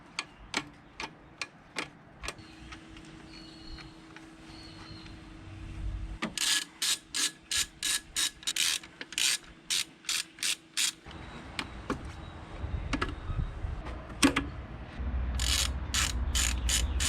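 A ratchet clicks in quick bursts while undoing downpipe bolts on a car, the rapid ticking coming close up in repeated runs and separated by clanks and mechanical rumble, with no one talking.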